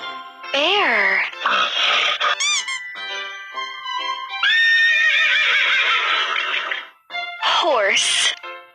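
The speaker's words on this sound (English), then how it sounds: "Horse." A horse neighs loudly and close by, with a long quavering whinny bracketed by shorter sharp calls and snorts.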